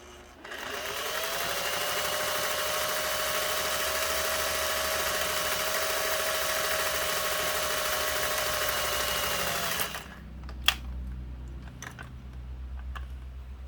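A Singer 401A sewing machine runs at a steady, fast, even whir for about nine seconds while stitching, then stops, followed by a few faint clicks and handling sounds.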